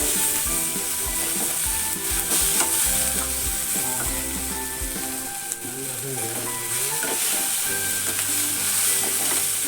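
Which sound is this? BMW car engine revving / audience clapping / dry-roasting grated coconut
dry-roasting grated coconut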